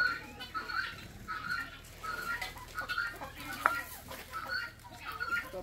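Chickens on a farm make repeated clucking calls over steady background noise, with voices talking in the scene as well.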